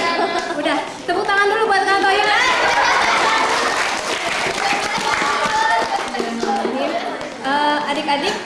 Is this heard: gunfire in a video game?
no